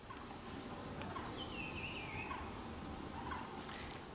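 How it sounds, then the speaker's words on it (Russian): Morning chorus of birds in an Indian jungle, many overlapping calls and warbles over a constant dense hiss, some whistles standing out nearer while the rest blends into a far, steady background. "С утра настолько насыщенный этот звук, пение птиц хором прямо поют"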